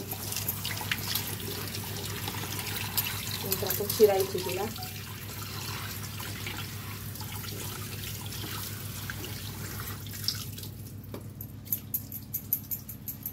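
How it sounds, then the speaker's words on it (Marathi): Water splashes and trickles as freshly picked wild leafy greens are rinsed in a vessel, with soft squishing and dribbling heard close up under a voice speaking. "आता ती आपण स्वच्छ धुणार आहे, आणि 2-3दा आपण पाणी घालून छान धुऊया स्वच्छ।"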